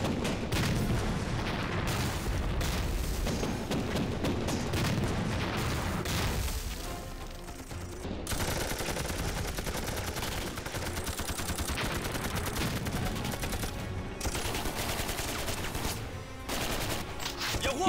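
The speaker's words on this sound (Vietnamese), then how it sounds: "Cho pháo nổ tung cửa kho, rồi đánh lại cho tôi." Cannon fire blasts open a warehouse door in an anti-Japanese martial arts action film, amid dense, continuous gunfire and explosions that hammer loudly throughout, with a brief lull near the middle.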